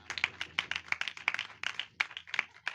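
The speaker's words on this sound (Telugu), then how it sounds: "చప్పట్లు." A church congregation claps in a loose, uneven rhythm, with sharp separate hand claps ringing out for a few seconds, fairly faint and with no talk.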